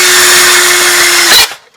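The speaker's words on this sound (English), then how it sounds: "The best way to go about doing that, you grab a drill" A power drill bores into the plastic shell of an Xbox console, a loud steady whine with a constant pitch for over a second before it bites through and spins down to silence.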